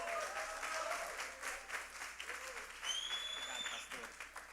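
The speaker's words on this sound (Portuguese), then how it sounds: "Eu gostaria que você recebesse com muita salva de palmas" Church congregation applause at a worship service forms a steady patter of many hands clapping, with a few high whistles rising above it for a second.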